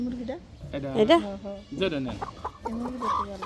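Chickens cluck and squawk close by, with people talking over and between the calls.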